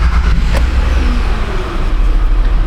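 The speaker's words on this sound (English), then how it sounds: "Boom, start the engine." A 2007 Honda Odyssey's engine runs close by, a loud, steady mid-pitched hum with a brief rev, heard alone without talking.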